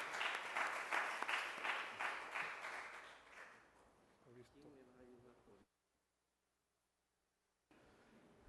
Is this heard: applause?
yes